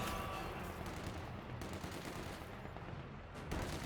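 Dense, continuous battlefield gunfire from the Company of Heroes 2 video game, with overlapping volleys of rifle and machine-gun shots rattling steadily at a fairly even level throughout.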